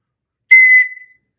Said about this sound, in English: You mustn't go into combat unless you have your whistle